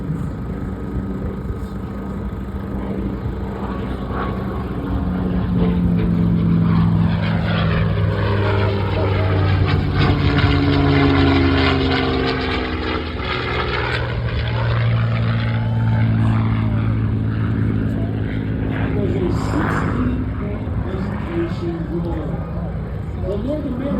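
A P-51 Mustang with its Rolls-Royce Merlin engine flies past at an air show, a propeller drone swelling and fading with a Doppler sweep, loud at the middle, while a commentator speaks throughout.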